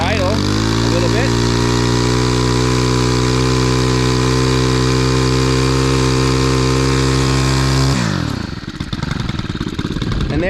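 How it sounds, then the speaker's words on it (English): A Stihl FS91R string trimmer idles at half choke with a steady, buzzing small-engine hum that holds evenly for several seconds, then falters and sputters to a stop, leaving faint clattering. "Now we're gonna move it to let's see, half choke. And we'll let it idle a little bit."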